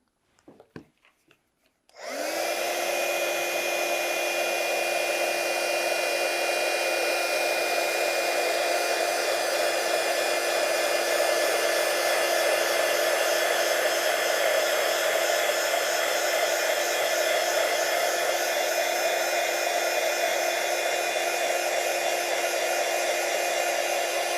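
A hair dryer switches on after a few faint clicks and then blows continuously at a steady, loud whine while drying a craft mirror frame, with no talking.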